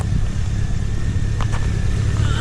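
A 2010 Chevy Camaro SS V8 engine idles steadily close by, a continuous low rumble with no revving, heard alone during an oil change.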